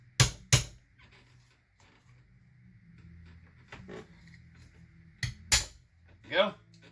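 Chainsaw metering diaphragms are punched out, giving a pair of sharp metallic clacks at the start and another pair later, loud and close, with fainter tapping and a low hum between and a voice briefly at the end.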